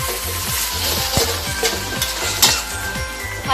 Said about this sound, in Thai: ผัดผักหอมจนผักหอมแห้งเลยนะคะ